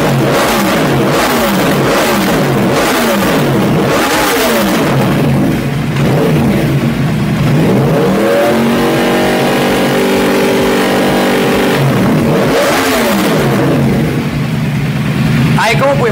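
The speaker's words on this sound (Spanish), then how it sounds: "Vamos a acelerar la motocicleta." A Yamaha R1 sport motorcycle engine revs up and down repeatedly during throttle synchronization, loud and close, surging between idle and high pitch over a steady engine drone.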